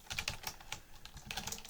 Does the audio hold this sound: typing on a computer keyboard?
yes